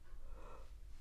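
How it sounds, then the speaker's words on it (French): A slow, close inhalation of air during a relaxation exercise, a soft airy breath drawn in steadily over about a second against a quiet background, with no speech. "Et on aspire de l'air."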